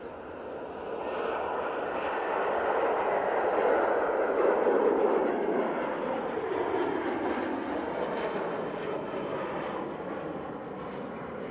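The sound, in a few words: KLM Boeing 737 jet taking off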